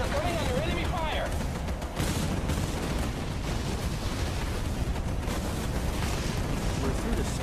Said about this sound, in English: We are coming under enemy fire.